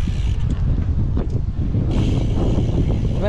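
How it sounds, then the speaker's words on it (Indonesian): Strong wind buffets the microphone at a fishing harbor, a loud, continuous low rumble with gusty swells and no clear voices. "Anginnya kencang sekali ya."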